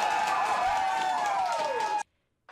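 Street crowd of football fans roaring and cheering for a goalkeeper's save during a South Korea versus Uruguay World Cup match, a dense, loud wash of voices with horn-like tones for two seconds before cutting abruptly to silence.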